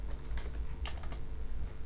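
Quick keystrokes patter on a computer keyboard as a terminal command is typed on Ubuntu, a short, fairly quiet burst of clicks over a low room hum with no talking.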